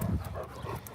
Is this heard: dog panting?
yes